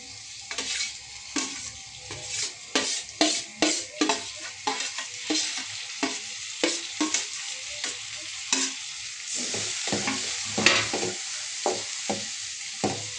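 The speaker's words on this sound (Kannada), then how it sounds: "ಇದಕ್ಕೆ ಸಬ್ಬಸಿಗೆ ಸೊಪ್ಪು ಹಾಕ್ತೀನಿ" Dill leaves sauté in a hot tempering with a constant sizzle, punctuated by rhythmic close scraping strokes of a spoon stirring the pan, no voices.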